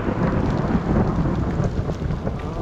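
Heavy thunderstorm on an open mountain trail near Pikes Peak, with steady loud rain and low rumbling thunder filling the whole stretch; hail is not clearly distinguishable, and no one talks.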